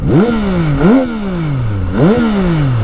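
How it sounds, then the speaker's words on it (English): Yamaha XSR900 GP motorcycle with new airbox trumpets, throttle blipped three times, each a loud, close, raspy rising whine that drops away as the revs fall, no speech. "so you get a bit more like rasp when you open the throttle"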